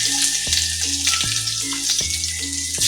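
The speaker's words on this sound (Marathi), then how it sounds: "तेल छान गरम झालं की त्यामध्ये मोहरी, जिरं, त्यानंतर कढीपत्ता, आलं लसूणची पेस्ट" Mustard seeds, cumin and curry leaves crackle in hot oil for a tomato chutney, a loud, close, continuous sizzle with rhythmic knocks of a spoon against the pan every second or so.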